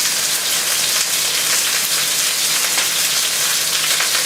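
A steak sizzles loudly in a hot pan, a dense, constant crackling spatter with no voices.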